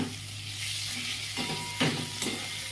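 Green chillies and spices fry in a pan for Bengali mutton kosha, a steady low sizzle with a few brief stirring scrapes and louder bursts, close and alone with no voices.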